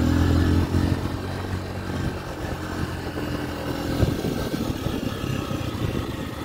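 A motorcycle engine idles steadily, a low continuous rumble that stays close and fairly loud for the whole stretch, with a slight roughness creeping in toward the end.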